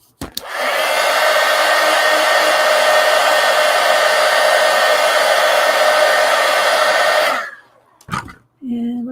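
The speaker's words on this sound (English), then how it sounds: "now let me hit that with a heat gun" A heat gun blows on a collage art card with a loud, steady whooshing roar for about seven seconds, then cuts off, followed by a few handling sounds and someone speaking.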